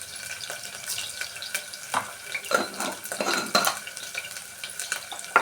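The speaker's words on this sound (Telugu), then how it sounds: "ఆవాలు జీలకర్ర వేసుకోవాలి." Mustard seeds and cumin crackle and sizzle in hot oil for a tempering, with scattered sharp pops and a utensil scraping and clinking against the pan, close up with no speech.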